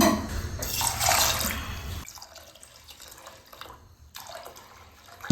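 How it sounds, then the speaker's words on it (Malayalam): Water runs and splashes into a cooking pot for rice with chickpeas, a fairly loud gush for about two seconds, then a softer trickle that stops and starts again. "രണ്ട് ഗ്ലാസ്സിന് നാല് ഗ്ലാസ് വെള്ളം ഇടണം"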